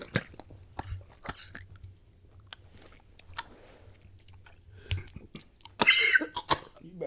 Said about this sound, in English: You're probably going to hear me cough and just choke,